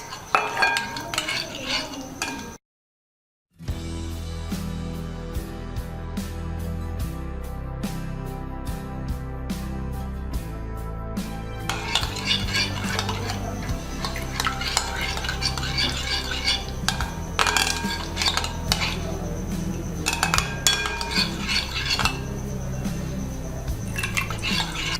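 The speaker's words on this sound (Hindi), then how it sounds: "थोड़ा थोड़ा ऐड करते जाएं और इसको मिक्स करते जाएं।" Rose water being stirred into a homemade apple night cream in a bowl, steady clinking and scraping of a utensil against the dish with a brief silent gap early on, continuing close and busy throughout.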